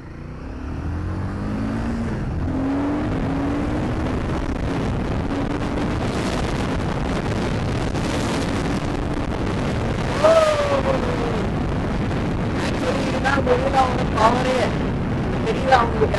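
A car pulling hard from second gear on a 0 to 60 run, its engine note rising steadily and loud over a constant roar of wind and road noise, with voices talking briefly later.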